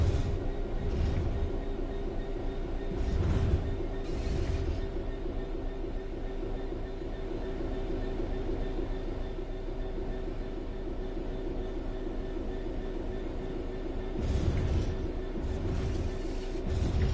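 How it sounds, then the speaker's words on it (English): Diesel train coasting on level track in Train Sim World 4, a steady low rumble with a faint hum, broken by a few soft periodic thumps of wheels over rail joints, no talking. "The train will then coast on level ground, and the train will only slow down very gradually."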